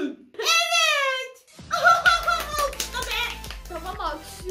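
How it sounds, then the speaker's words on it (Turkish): Hand clapping from a few people follows a voice in a playful mock wedding moment, sharp claps scattered under continued chatter and giggling with a faint steady background hum. "Tamam, alkışlıyorum."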